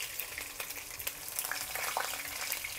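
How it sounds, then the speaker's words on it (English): Minced pork meatballs brown in hot oil in a pan, giving a dense, continuous close sizzle with small spattering pops throughout and no talking. "And we just brown them for a little while more before we braise the meatballs."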